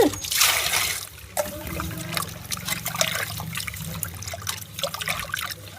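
Water poured and trickling over fish as it is washed clean: a close, continuous splashing pour that softens into a dribble, with no one talking.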